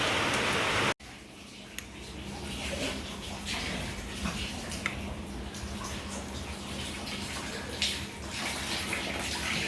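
Heavy rain pours steadily onto a house's front steps and doorway, a dense, even roar of falling water that holds for the whole stretch after a brief cut near the start.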